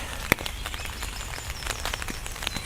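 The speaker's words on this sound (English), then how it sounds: "rain started coming down a bit again" Rain falls steadily in woodland, heard from a sheltered spot, with a soft continuous patter and scattered sharper drops, one louder tap standing out early.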